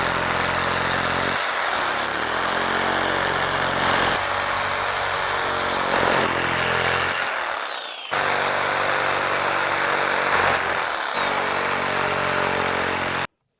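Power tool cutting target shapes out of rubber sheet, a loud continuous whining drone broken by a few short pauses and restarts, with no speech.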